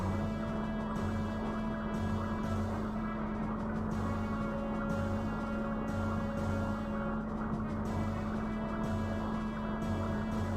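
In the role-playing game Xenogears, an elevator descends to the gear hangar with a continuous mechanical hum. A low throb pulses under it roughly once per second, steady and unchanging throughout.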